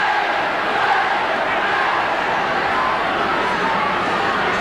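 A rugby league stadium crowd at a Wigan versus Manly World Club Challenge roars and cheers in a dense, sustained wall of noise, with a commentator's voice talking over it.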